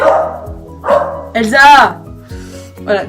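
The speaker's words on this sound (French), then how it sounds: "désolée, c'était mon chien, pardon" A pet dog barks several times nearby, sharp loud yaps and a higher whining yelp, while someone speaks over it.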